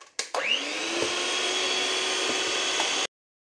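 Electric hand mixer whirring steadily as it beats cream with vanilla sugar, starting abruptly after a couple of clicks, holding a constant motor drone close up for about three seconds, then cutting off.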